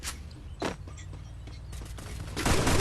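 Gunfire from a mobile shooter video game: a few sharp bursts early on, then a loud, dense volley toward the end over a steady low hum, with no voices.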